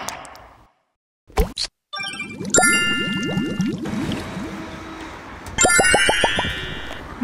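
A notification bell sound effect plays bright, clear ding tones, preceded by a couple of sharp clicks and followed by a rapid run of bouncy plopping notes and chimes, loud and close with no speech.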